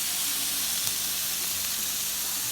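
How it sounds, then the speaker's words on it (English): Steady, continuous sizzling hiss of hot dogs frying in a hot pan, even and unbroken throughout. "Listen to that sizzle."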